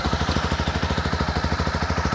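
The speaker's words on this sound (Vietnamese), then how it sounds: "qua đây anh em mình nghe cho anh nghe tiếng bô zin" Stock exhaust of a single-cylinder motorcycle idling close up, a steady rapid thumping pulse with even rhythm, loud and alone.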